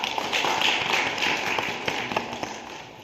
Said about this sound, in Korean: 5번의 박수 부탁드립니다